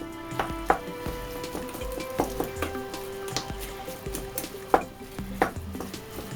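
Beef filling sizzles and crackles in a hot frying pan while a spoon scrapes and stirs it, with irregular clicks of utensil on metal.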